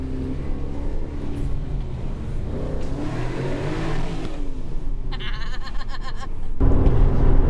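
An Aston Martin DB12 engine pulls hard in a tunnel with a strong mid-pitched growl, building steadily with a raspy burst near the end, heard from inside the car with faint voices.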